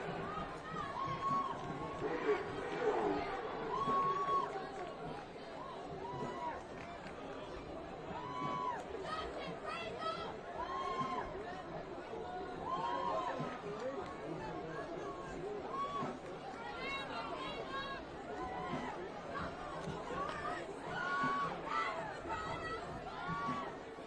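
Crowd at a high school varsity football game, a steady low murmur of many voices chatting in the stands, fairly distant and continuous throughout.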